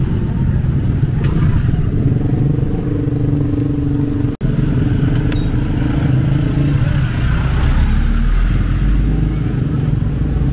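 Steady road traffic of cars and motorcycles in the Philippines, a loud continuous rumble of engines passing close by with occasional revving and clatter, heard from a vehicle driving to a local village market.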